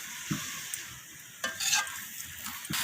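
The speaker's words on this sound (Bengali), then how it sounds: "এইভাবে মিশিয়ে নিয়ে সব কিছু আরও একবার কষিয়ে নিচ্ছি।" Spinach and bottle gourd greens with cabbage being stirred and fried in a pan, a continuous bright sizzle broken by a few scraping strokes of the spatula, close and fairly quiet, without voices.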